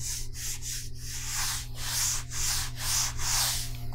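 Wet sponge smoothing drywall mud over a taped butt joint, a steady run of rhythmic rubbing strokes close up, each swipe rising and fading over a constant low hum.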